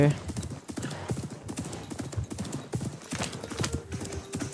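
Horse hooves clip-clop in a quick, steady rhythm in the video game Assassin's Creed Mirage, close and clear, with a voice talking over them and a brief whinny at the start.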